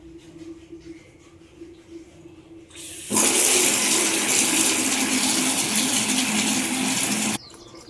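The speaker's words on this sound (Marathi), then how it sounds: "आता इथं बादली भरून काढते म्हणजे पाणी थोडं कमी वाहते" Water gushes from a tap into a bucket in a loud, steady rush for several seconds, starting abruptly and cutting off just as suddenly, with quiet ambience before and after.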